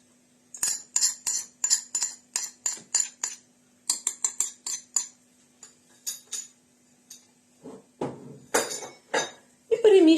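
A utensil knocks and scrapes rhythmically against a bowl in quick repeated strokes, mixing flour and baking powder into a pourable pie batter, pausing briefly, with a faint hum underneath and a voice near the end.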